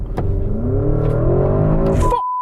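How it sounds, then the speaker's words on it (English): A Porsche Cayenne Turbo GT engine in Sports Plus mode pulls hard at full throttle, a loud, steady rising roar with climbing harmonics that ends abruptly, recorded close inside the cabin. "I'm going to floor the throttle."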